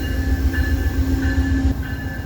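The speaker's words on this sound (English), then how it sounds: "I also didn't expect to see another train rolling in right here." A passenger train rumbles steadily nearby as it rolls into a station, with a low droning hum and faint metallic squeals from the wheels, rolling along without pause.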